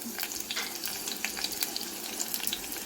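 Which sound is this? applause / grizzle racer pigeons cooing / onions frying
onions frying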